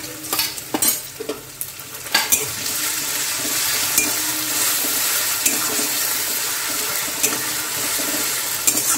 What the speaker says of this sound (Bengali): পেঁয়াজটাকে ব্রাউন ব্রাউন করে ভেজে নেব। পেঁয়াজটা ভাজা হয়ে গেছে, দিয়ে দেব আদা বাটা, দেব লঙ্কা বাটা কাটা।